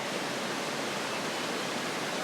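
Clean river water in the hills of Okutama, Tokyo, rushes in a loud, steady broadband roar, close and unbroken throughout.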